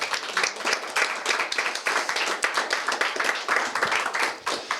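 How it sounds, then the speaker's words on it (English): A school assembly audience gives a lively round of applause, many hands clapping densely and unevenly with sharp individual smacks poking through, loud and sustained throughout. "So let's give them one more round of applause."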